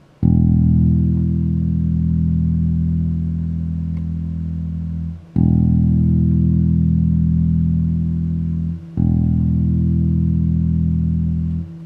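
A low, sustained open bass string note rings out three times through a Hartke HA2500 amplifier, each held several seconds before cutting off, loud and steady with no talk.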